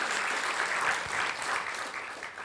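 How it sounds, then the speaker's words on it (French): An audience at a literary stage event in tribute to Henri Gougaud claps for the technical crew, a dense, sustained round of applause that swells and fades slightly across the clip without anyone speaking. "Ah, on peut l'applaudir à la technique."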